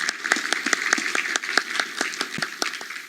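An audience at an academic conference session applauds a speaker, steady dense clapping throughout with no voices on top.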